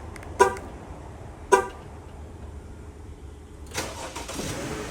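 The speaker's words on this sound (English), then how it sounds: "And now our vehicle start." A 2018 Chrysler Pacifica is started with its original key fob. Two short horn chirps sound first, then the engine cranks and catches near the end, settling into a low idle.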